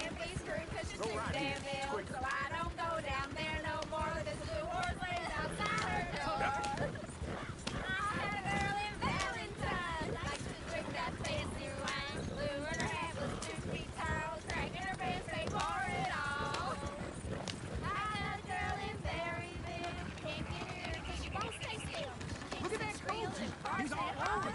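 Horses clip-clop in a steady, busy rhythm across the whole stretch, mixed with ongoing talk and background commotion at fairly even loudness.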